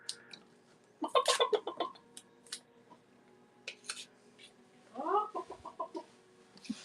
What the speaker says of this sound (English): Little chicken running.